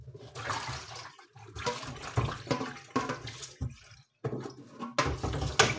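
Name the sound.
water running from a tap while washing dishes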